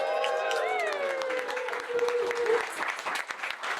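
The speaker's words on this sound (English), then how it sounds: "I give my new husband, Pilot Officer Tynan, a big round of applause?" Wedding guests applaud the newly married couple, a steady dense round of clapping with cheering voices over it, fairly loud and close throughout.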